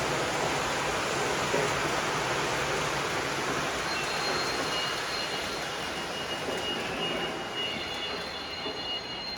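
A steady, roaring rush of a model train, a 4014 locomotive running at 80 scale miles per hour, with continuous broadband noise and faint high whine, no talking.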